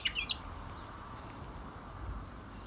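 Pet bird singing in the morning, a few quick bright chirps at the start followed by faint thin whistles over a steady low background hum, no voices.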